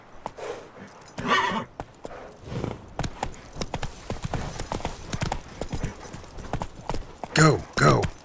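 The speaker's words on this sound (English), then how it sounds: "That's it, Roach." Hooves of a horse clip-clop steadily in The Witcher 3: Wild Hunt, with the animal whinnying loudly near the end. Someone speaks over the rhythmic trotting.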